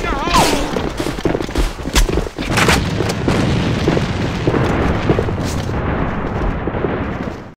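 Loud, near booms and gunfire fill a video game battle in AvA, with a grenade blast among repeated shots and bursts, dense and continuous over a noisy background.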